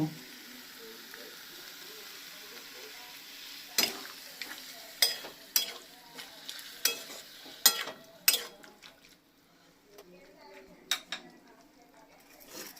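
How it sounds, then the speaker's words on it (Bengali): Banana stem mash being sautéed for a Bengali thor ghonto: a spoon scrapes and clinks against the pan in a string of sharp, irregular knocks over a soft, steady sizzle, with no talking. "থোড়ের ম্যাশটা দিয়ে একটু কষিয়ে নিলাম।"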